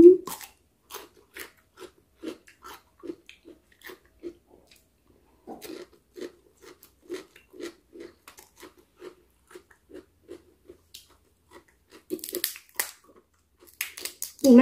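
Raw shrimp and giant octopus, eaten sashimi-style with a spicy dipping sauce, get chewed with close, steady, crunchy bites that repeat in a quick rhythm with brief pauses, and no talking over them.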